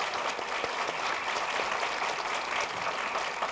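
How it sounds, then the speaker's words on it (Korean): Steady applause from a lecture audience welcoming a research professor at a Korea University law school special talk, dense and continuous clapping throughout without a break. "박수로 환영."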